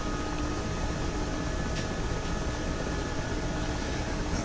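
An Mi-8 helicopter flies in a flight simulator game, its rotor and turbine engines making a steady, dense, continuous drone at even loudness throughout, with no talking.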